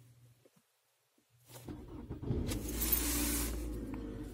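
A car's ignition is switched on while a battery tester is connected, bringing a faint click and then a steady engine-like rumble and whir that builds after a quiet start and holds close by.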